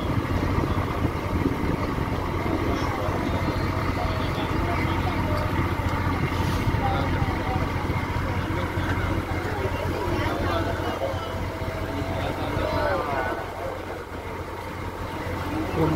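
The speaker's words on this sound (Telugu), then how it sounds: "మా పడవ వెళ్తుంటే నీళ్ళ మీద ఆ బుడగల్లాగా ఇది చూస్తుంటే అలలు భలే అంటే భలే ఉన్నాయన్నమాట" A boat moves across the Srisailam reservoir, its engine droning steadily while water washes and churns against the hull, with faint voices in the background throughout.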